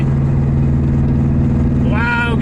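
A WRX-swapped Subaru GC8 with an alignment fault cruises at 60 mph, its engine a steady, loud drone throughout; a brief voice rises near the end.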